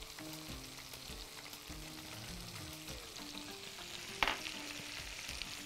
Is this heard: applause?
no